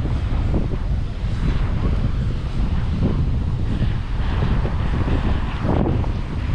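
Wind and surf on a seashore, a steady roar of gusts buffeting the microphone with low rolling waves underneath, loud and continuous with no voices.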